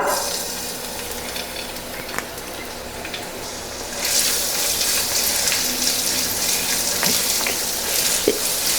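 Ginger hits hot oil and a loud sizzle erupts, a dense frying hiss that continues steadily over quieter clinks and stirring.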